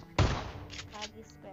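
A single sharp, booming shotgun blast from PUBG Mobile cracks out near the start, followed by quieter, muffled game noises.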